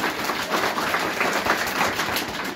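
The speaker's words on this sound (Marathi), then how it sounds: "आपण सर्वांचं टाळ्या वाजवण्याचं स्वागत करूया" Crowd applause at a village school celebration, a continuous wash of clapping from many people at steady loudness throughout the short stretch, with no speech over it.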